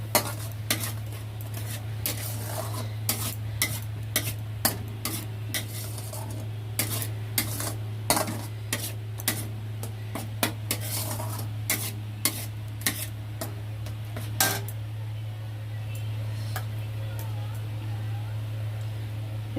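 Cashew and poppy seed paste frying with spices in a pan, scraped and stirred in repeated sharp metallic clacks over a soft sizzle, with a constant low hum throughout.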